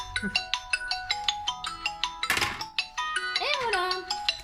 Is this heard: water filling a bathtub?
no